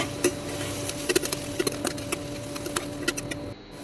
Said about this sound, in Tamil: மிளகுத்தூள் எல்லாம் ஆட் பண்ணிவிட்டு நல்லா கிளறி விட்டுக்கோங்க